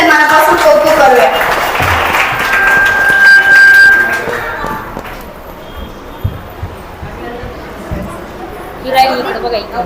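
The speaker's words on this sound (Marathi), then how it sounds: "आपण टाळ्या वाजवून या मुलांचे मनापासून कौतुक करूया." Applause from an audience for children at an annual school gathering, broad and fairly loud, mixed with voices and crowd chatter, thinning out toward the end.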